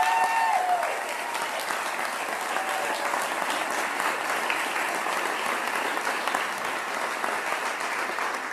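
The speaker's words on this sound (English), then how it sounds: "So please give her a round of applause." Steady, dense applause from a large audience at a faculty convocation, sustained throughout at even loudness with no talk over it.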